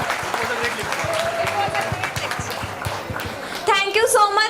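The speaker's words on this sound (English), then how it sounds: "Please, can we have once more a big round of applause?" Audience applause at a live talk event, steady crowd clapping throughout with a voice speaking over it near the end.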